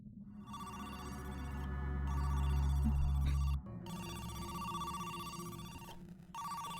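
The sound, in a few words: phone ringing in a video game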